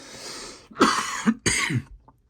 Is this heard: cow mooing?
no